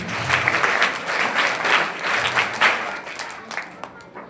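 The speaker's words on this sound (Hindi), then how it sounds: "भाई के लिए एक बार जोरदार बड़ी ताली" Hearty audience applause at an annual exam results ceremony, honouring a top-ranked student with sustained clapping from a fairly close crowd that gradually loosens toward the end.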